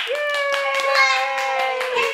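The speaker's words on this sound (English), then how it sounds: "So everybody clap for Lorraine" A puppet-show audience claps for Lorraine in steady, close, sharp claps, half-masked by a loud, sustained, tonal voice held across the whole moment.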